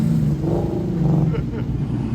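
A Lamborghini Countach driving by at a car show, its low engine rumble rising briefly under nearby voices.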